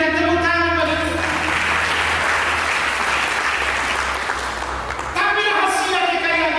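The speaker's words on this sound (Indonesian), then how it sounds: "Mari kita berikan tepuk tangan pada Tuhan." Church congregation clapping loudly and steadily, a full wash of hands that swells between a voice at the start and his speaking again near the end.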